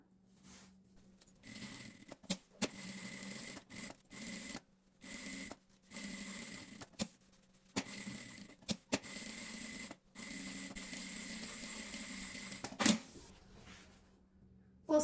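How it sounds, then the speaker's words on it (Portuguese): A sewing machine running a safety seam around the edge of a half-moon hobo bag: close, bright whirring stitch runs lasting a second or two each, stopping and restarting repeatedly with short pauses between them. "vou na máquina agora e vou fazer uma costura de segurança em toda a volta"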